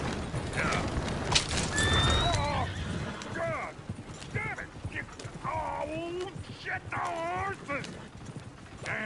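A horse whinnies repeatedly in Red Dead Redemption 2, with hooves clip-clopping among layered in-game sounds and faint voices in the background.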